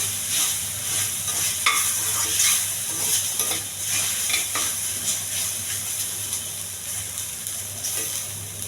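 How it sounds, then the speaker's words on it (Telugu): Lemon rice with masala sizzles steadily in a hot pan while a spoon stirs and scrapes through it in irregular strokes, close and continuous with no talking. "ఈ మసాలా అంతా పట్టేంత వరకు ఒక కలపాలండి."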